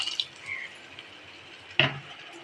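Chickpea cooking water is poured into a mixer jar in a home kitchen, giving a faint liquid trickle with a couple of brief splashy drips, quiet and close with no talking.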